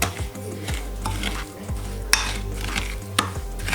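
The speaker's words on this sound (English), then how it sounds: "you need to mix up until the margarine has loosened up" Margarine and sugar for cake batter being stirred in a bowl, a repeated close scraping and swishing rhythm of steady strokes, with no talking.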